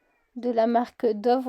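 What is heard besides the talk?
cat meowing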